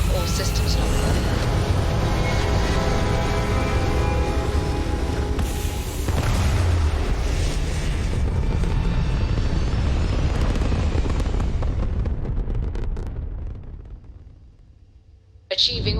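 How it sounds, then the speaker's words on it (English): Spaceship liftoff in the video game Starfield: a loud, sustained rumbling roar with booming low end that holds steady, then fades away near the end, with a voice speaking over it. "Liftoff looks good."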